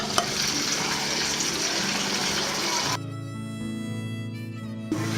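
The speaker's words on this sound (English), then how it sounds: "our chili, our meat, has been simmering for about an hour" Pork and pumpkin chili meat simmering in a pan on a wood stove, with dense close bubbling and sizzle that cuts to a quieter low hum partway through.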